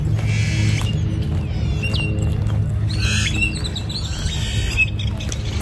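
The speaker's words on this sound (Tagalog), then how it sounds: "Dami mong marinig na mga ibon." Birds chirp and call in a park in Phoenix, with short, bright tweets scattered over a steady low background rumble, moderately close and without talk.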